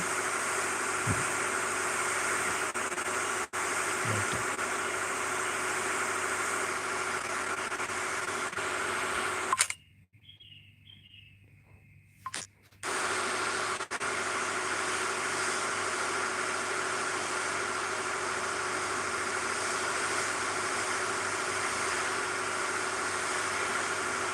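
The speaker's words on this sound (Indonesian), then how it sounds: "Muter aja dulu sambil tes mesin." A boat engine is tested in the Ship Simulator video game, giving a steady droning hum that drops out briefly partway through and then returns.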